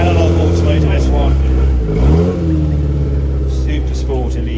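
An Analog Automotive S1 Super Sport Elise engine rumbles and revs at a car dealer parade in London, pitch rising and falling once in a throaty surge before settling back to a steady idle drone.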